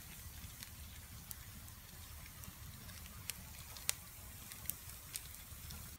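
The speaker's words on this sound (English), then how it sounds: "The rain's getting heavier." Rain patters steadily at a campsite beside a large wood fire, a soft continuous hiss broken by scattered sharp drips and crackles, fairly quiet and with no voices.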